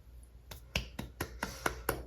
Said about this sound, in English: I just gave a little round of applause for that.